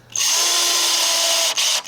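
A power drill drives a screw deep into pallet wood, producing one loud, close, high-pitched whine that holds steady and then dips briefly before resuming near the end.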